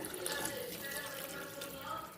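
Water is poured into a bitter gourd tamarind curry in a cooking pot, producing a steady splashing trickle at close range with no speech.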